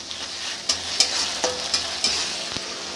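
Ginger garlic paste frying in a pan for dalcha, a steady soft sizzle broken by several scraping stirs of a spoon, close and alone with no talk.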